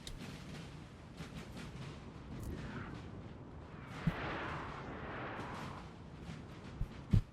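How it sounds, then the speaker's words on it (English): Artillery fires in the Napoleonic-era battle game Napoleon: Total War, with distant cannon booms and a few sharper reports over a rumbling battlefield bed, faint and spread out. "But you see artillery now firing for Russia into the French lines."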